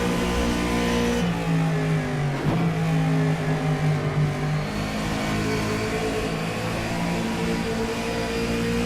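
A race car engine in the rFactor 2 video game revs steadily with a slipping clutch, a loud, droning harmonic whine that dips briefly and then climbs back to a sustained, slightly wavering pitch, heard alone without talking.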